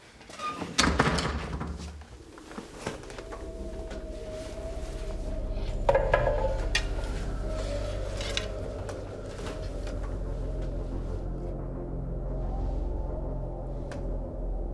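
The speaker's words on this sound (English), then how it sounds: "please close the door." Door being closed in a room: one sharp, loud slam near the start, a second thud and clatter, then a long steady hum of room tone with faint rattles.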